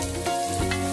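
Garlic frying in a pan for a beef caldereta, a steady close sizzle with no talking over it for about a second.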